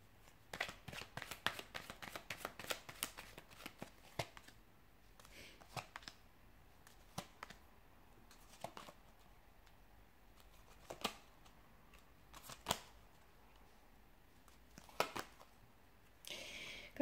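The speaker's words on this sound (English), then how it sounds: "So we'll give the cards a shuffle and see what the cards predict here for you" Tarot cards being shuffled by hand, giving quiet riffling and flicking bursts that come in uneven clusters with pauses between them, close and soft, with no voice over them.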